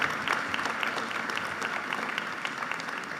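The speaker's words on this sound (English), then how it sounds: "All right, give them a round of applause" Applause from the audience at a high school senior awards ceremony, a steady dense patter of many hands throughout.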